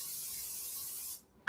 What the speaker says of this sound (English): But I'm gonna spray it first, because that's just me. I like to spray everything so nothing sticks.